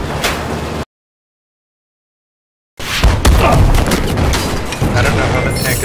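A tank blowing up in the video game Battlefield 4, heard as a heavy booming blast with rumbling debris that breaks in after a couple of seconds of silence and stays loud to the end.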